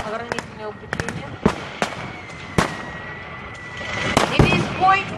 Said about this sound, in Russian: В бой вступила артиллерия. Несколько удачных выстрелов разрушают оборонительные укрепления.